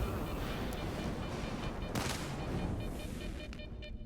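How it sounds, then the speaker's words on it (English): Gunfire in the video game STALKER 2: a sustained din of shots and rumbling blasts, with a sharper crack near the middle and scattered reports trailing off at the end, moderately distant and without talk. "Who's shooting?"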